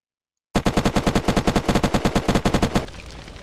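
Rapid automatic gunfire shooting a zombie boss in a video game, about twenty evenly spaced loud shots in a fast burst lasting a little over two seconds, then stopping.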